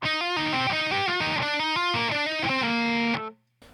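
A distorted electric guitar plays a fast riff from a song with hammer-ons and pull-offs, a quick run of notes that ends on a held note and then cuts off. It is loud and close, with no voices.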